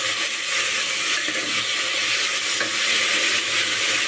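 Coriander, mint and curry leaves fry with onions in a hot pan, giving a steady, close, loud hissing sizzle with faint stirring scrapes. The sizzle runs alone throughout.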